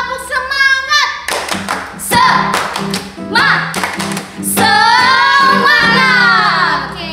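Children in a Sunday school service perform a rhythmic group clap, sharp bursts of hand claps in patterned beats alternating with loud shouted and sung voices.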